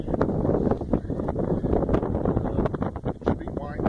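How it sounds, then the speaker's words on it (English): Strong, gusty blizzard wind during the heavy 2016 snowstorm in Dundalk, Maryland, roaring and buffeting the microphone continuously with loud broadband rushing. "Wind is just atrocious."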